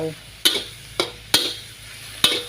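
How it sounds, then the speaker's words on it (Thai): A spatula scrapes and clacks against a pan as beef and chili are stir-fried, four sharp close strokes over a faint background sizzle. "แล้วก็จะผัด เนื้อกับพริกที่เข้ากันสักนิดนึงนะคะ"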